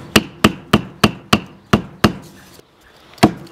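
A paving stone strikes EVA foam on its edge to press deeper dents, giving seven sharp, evenly spaced thuds with a short pause before one final hit, close and loud with no talking.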